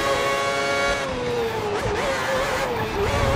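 Formula 1 cars in F1 2010 race online at Shanghai, their high engine whine loud and close. The pitch climbs and dips through gear changes and cornering over a rumbling track.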